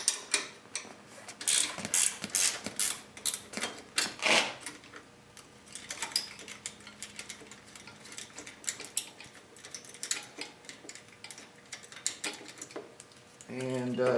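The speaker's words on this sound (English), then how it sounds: "take your 7/16 wrench and remove the bolt at the end of the strap that wraps around the" A 7/16 wrench works the seat strap bolt on a 2008 Harley Davidson Road Glide, making close metallic ratcheting clicks in bursts with clinks and handling noise, then quieter tool contact.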